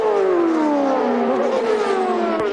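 A Toyota turbo CART race car engine screams past on a 2002 Laguna Seca qualifying lap, one loud high-pitched whine sliding downward in pitch as it draws away.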